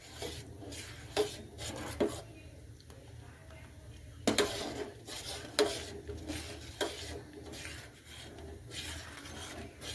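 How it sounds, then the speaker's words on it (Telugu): A spoon stirs a mixture in a pot on a medium flame, producing repeated scraping and rubbing strokes against the pot with brief clinks, soft and close. "కొంచెం మీడియం ఫ్లేమ్లో పెట్టుకొని బాగా కలుపుకోవాలి"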